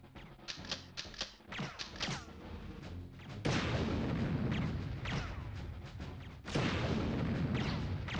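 Rapid gunfire in the N64 game Army Men: Sarge's Heroes, a quick string of snappy shots followed by two heavier booming blasts that roll on for a few seconds.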